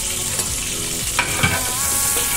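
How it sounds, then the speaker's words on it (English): Red wine hits a hot pan of ribeye steak juices and the sauce is stirred, producing a steady close sizzle with a few soft scrapes and clinks running through it. "Now we try to pour some little bit of the red wine on top and make the juice."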